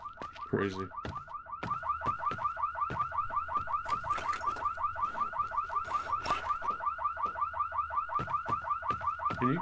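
A loud, continuous car alarm cycles through rapid rising whoops in the zombie survival game No One Survived, with a few clanks and thuds at the start and short noises scattered throughout.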